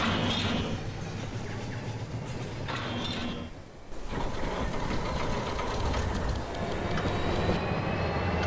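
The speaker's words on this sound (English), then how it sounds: "Now we have three trains going around." Several trains run around a layout in the Rolling Line model railway game, giving a continuous rolling rumble with clanking and knocking, a brief dip in the middle and no speech.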